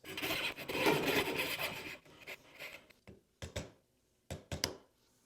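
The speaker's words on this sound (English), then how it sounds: "now you have a really good coping saw starting cut, and you can just cut in that pilot line just like this" A coping saw cuts dovetail waste in wood along a pilot line, with a long run of rapid rasping strokes followed by a few short, separate scraping bursts, close and fairly clear with no talk.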